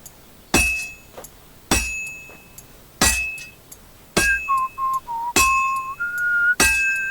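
Sword being hammered on an anvil at a forge in Kingdom Come Deliverance 2, ringing metallic clangs struck one at a time about every second and a half, each blow leaving a bright decaying ring, with short whistling tones between later strikes.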